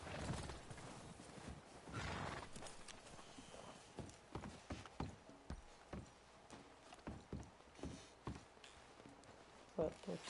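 In the video game Red Dead Redemption, a horse's hooves clip-clop in a steady walking rhythm, faint and nearby, with a brief whinny. Someone speaks over the start.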